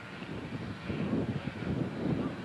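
Locomotive 988 running on its first firing, a low, steady engine rumble with a soft whooshing, breathy texture, moderately loud and continuous, with no voices over it.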